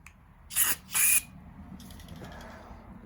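Two short hissing bursts of carburetor cleaner sprayed into a carburetor during cleaning, the second longer, followed by softer faint hissing and quiet handling noise nearby.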